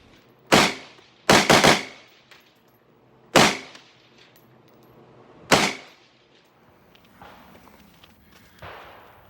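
A SIG 556 rifle fires 5.56 55-grain ammunition at a range, giving four sharp, loud shots with a quick double near the start and irregular gaps between them, each followed by a short decaying echo.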